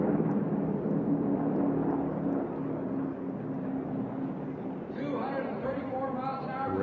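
A racing airplane in a T6 class air race, a blue aircraft with yellow stripes, roars past as a steady, loud engine drone that holds for several seconds before the pitch shifts slightly near the end.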